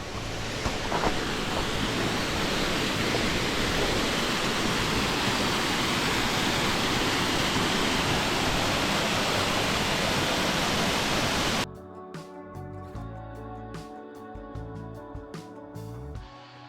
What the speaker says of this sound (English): here's the first waterfall.